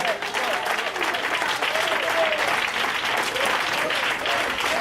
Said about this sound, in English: Come on, put those hands together for Jesus.